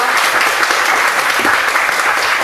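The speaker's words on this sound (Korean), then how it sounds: "박수 부탁드립니다." An audience applauding at a live Hyundai heritage event on commercial vehicles, a dense, loud, continuous wash of clapping from many hands throughout.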